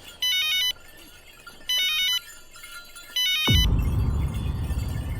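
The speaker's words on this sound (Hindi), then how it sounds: "फोन आ रहा है।" A phone ringtone chimes in three short electronic bursts, then a loud low rumble takes over as the ringing stops.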